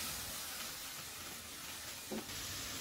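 Onion, garlic and cumin paste sizzles steadily in a pan as a splash of water is added for a Bengali tengra fish and potato curry, a soft continuous hiss with a brief burst near the end.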